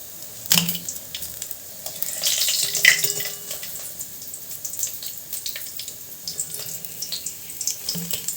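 Fritters made from fish oil fry in hot oil, giving a steady crackling sizzle with brief louder bursts and a few clinks, close up and with no talk.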